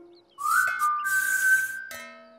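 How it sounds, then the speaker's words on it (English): A whistle signal in a children's animation: a clear, steady tone rising slightly then held for about one and a half seconds, with bright chime-like jingles layered over it, ending abruptly. "Ready for our whistle, Corky?"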